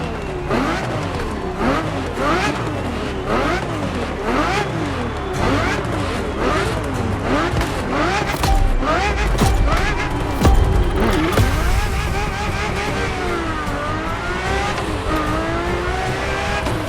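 A Ferrari engine in The Crew Motorfest racing game revs hard and continuously, with rising and falling gear sweeps, brief shift dips and some tire noise, loud and close throughout.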